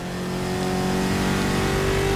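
A Ford F100 pickup truck engine revs steadily in a racing video game, a loud continuous mid-pitched drone with a strong tonal hum holding throughout, no talk over it.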